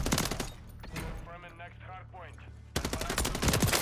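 Automatic fire from an MCW rifle in Modern Warfare 3 rattles in fast, loud bursts at the start and again at the end, with a voice talking through the gap between them.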